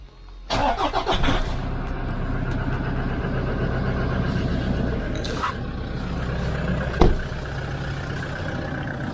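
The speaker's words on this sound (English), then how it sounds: "Now I have to go and start the engine." A Toyota Land Cruiser engine cranks briefly and catches, then settles into a steady loud idle heard up close, with a sharp click or clunk partway through and no talking.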